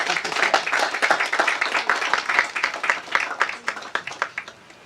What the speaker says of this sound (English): I think we should have a round of applause for the committee for their plans for the rest of this year